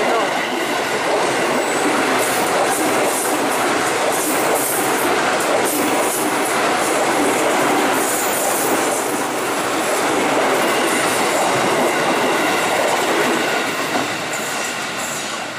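A commuter train runs between Rawa Buntu and Serpong stations, with a loud, steady interior roar, rhythmic clickety-clack from the wheels and faint squeal, continuous throughout.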